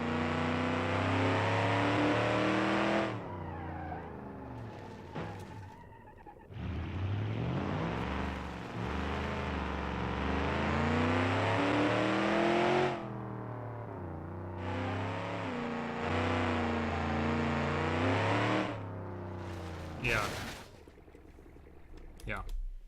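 Car engine in the BeamNG driving simulator, a steady humming drone that rises and falls in pitch with acceleration and shifting, briefly dropping out and cutting off near the end, with a person talking over it at times.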